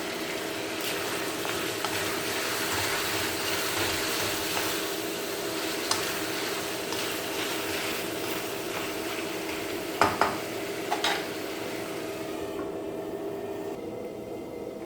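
Potato masala for a Chettinad-style fry being stirred in a pan, with a steady sizzle of frying underneath and a few sharp clinks of a spoon against the pan near the end, close and moderately loud with no talking.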